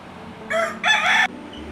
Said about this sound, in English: Not only is there a rooster crowing contest going on